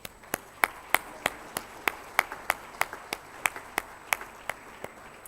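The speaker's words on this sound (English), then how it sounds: "So big round of applause for the judges" Audience at a Dilmah Real High Tea Global Challenge award ceremony claps for the judges, producing a thin, regular run of sharp hand claps over a quiet room.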